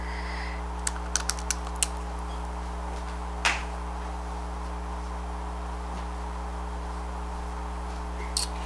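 Keys tapped while entering an equation: a quick cluster of five sharp clicks, then a couple of isolated presses later, faint against a steady electrical hum with no voices.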